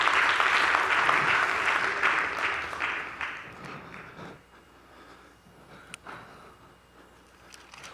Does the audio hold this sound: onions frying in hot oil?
no